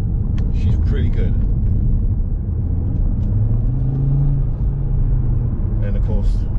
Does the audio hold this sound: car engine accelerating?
yes